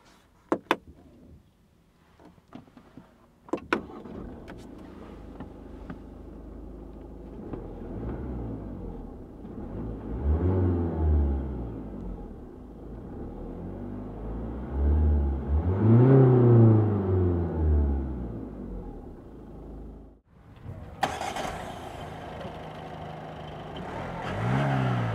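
Ford Fiesta with a 1.5 TDCi diesel engine: a few door and interior clicks, then the starter cranks, the engine catches and runs, revving up and settling twice before a final louder burst.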